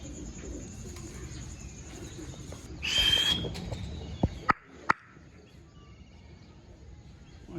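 Racing pigeons coo softly outdoors, then a louder rush of wingbeats and a few sharp wing claps as the flock takes off, over a steady low background rumble.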